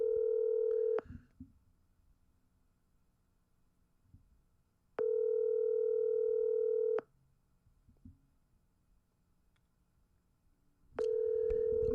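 A telephone line plays a steady dial-type tone in three long bursts of about two seconds each, separated by quiet gaps with faint clicks and low background hum.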